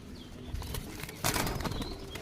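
Pigeon bursting out of a loft with a quick clatter of flapping wings, a sharp loud flurry near the middle, close and brief against a faint background.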